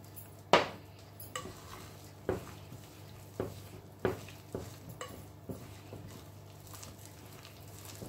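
Dough mixed by hand in a bowl with salt, butter and orange blossom water for Moroccan fekkas biscuits, a series of soft knocks and clinks against the bowl at uneven intervals between quiet stirring and rubbing.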